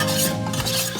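Grated Gruyère cheese is stirred into sauce in a pan, a short, continuous scraping and swishing of a utensil against the pan with a soft wet stir, close and steady, with no speech.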